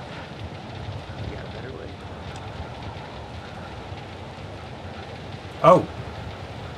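Steady rain falls in the Man of Medan video game, a soft continuous hiss with light wind under a brief exclaimed voice near the end.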